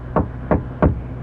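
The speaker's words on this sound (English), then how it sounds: "Then, a knock on the door." Three evenly spaced knocks on a door, a radio drama sound effect, close and solid with a low background hum and no talk.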